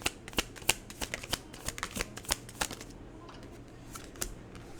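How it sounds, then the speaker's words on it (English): Tarot cards being shuffled by hand, a run of quick crisp riffling clicks and slaps at close range that thin out toward the end, with no talk over them. "I like shuffle the cards and then they get all mixed up in the wrong direction"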